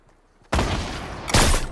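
Gunfire in Fortnite Battle Royale, a sudden loud burst of rapid shots that runs on as sustained noisy firing, with a second sharp blast just under a second later, close and harsh.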